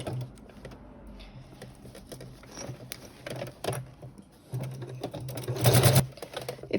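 Sewing machine stitching binding on a bag, with short bursts of rapid mechanical whirring and clatter between quieter pauses, close and moderately loud, the longest burst near the end.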